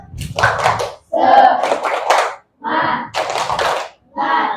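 Children in a classroom Islamic studies lesson perform a rhythmic spirit clap, chanting together in short loud bursts punctuated by hand claps, with brief pauses between phrases.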